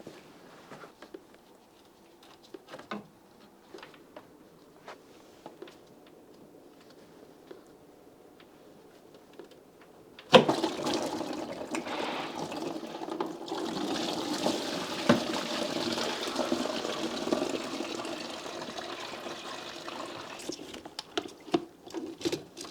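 Coolant drains from loosened radiator hoses on a Mercedes-Benz S123 300TD: faint drips and small splashes at first, then a sudden steady splattering pour that continues with scattered drips, close by and without talk.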